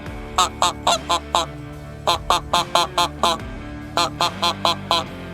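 A handheld goose call for bean goose imitates barnacle goose and greylag goose honks, rapid bursts of honks in three groups of four or five each, loud and close against a low background hum.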